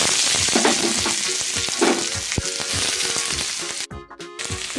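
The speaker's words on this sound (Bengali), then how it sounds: "পেঁয়াজটাকে নাড়াচাড়া করে ভালো করে ভেজে নেব।" Onion with dried red chillies fries in hot mustard oil, a loud, continuous sizzle near at hand with intermittent scraping and stirring strokes, and a brief drop in the sound near the end.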